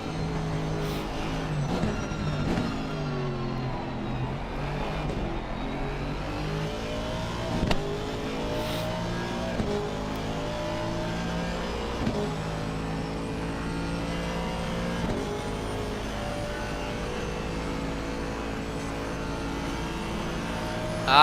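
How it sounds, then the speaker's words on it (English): Aston Martin V8 GT race car at Mount Panorama heard onboard, a loud continuous engine roar with rising and falling pitch through gear changes and a brief burst near the end. "Let's take a listen to that V8."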